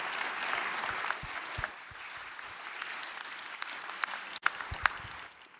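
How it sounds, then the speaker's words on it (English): Audience applause at a security research event, a steady wash of many hands clapping through a conference hall that thins out near the end, with a few sharper individual claps standing out. "please join me with a big applause for this very interesting stage"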